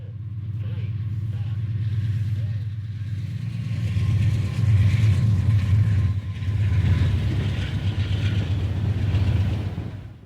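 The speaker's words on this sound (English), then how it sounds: "This S-curve really sets off this loaded coal train." Loaded CSX coal train on an S-curve of the Magnolia Cut Off in 1992, a deep diesel rumble that grows louder and rolls steadily past with heavy low churning.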